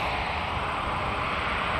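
United Boeing 787-9 airliner in SAF livery on the San Francisco service, a steady broadband engine roar held at constant loudness for the whole short stretch, no voices.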